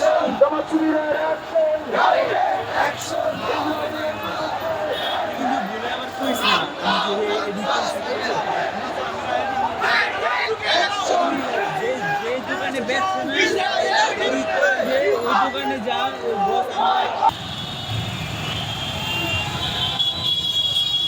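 Street protest march in Dhaka against Israeli attacks on Gaza, a large crowd chanting slogans in rhythmic call-and-response waves, loud and continuous, with a brief change in tone near the end.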